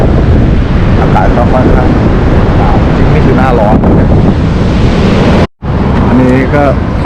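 Strong coastal wind buffeting the microphone on the Great Ocean Road beach, a loud continuous roar with a brief dropout; faint voices talk underneath.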